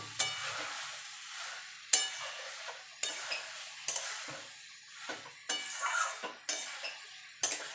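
Shrimp go into a pan of potato and pointed gourd and are sautéed, bringing rhythmic scraping and clattering of a spatula against the pan over a soft sizzle at close range.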